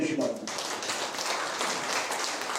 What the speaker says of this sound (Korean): 한번 박수 한번 해주시기 바랍니다